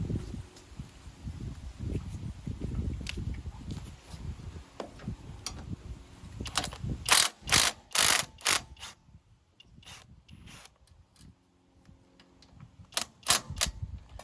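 Ratchet wrench working 10mm bolts loose on a Husqvarna riding mower, heard as bursts of sharp close clicking with pauses between, over low handling and rustling noises.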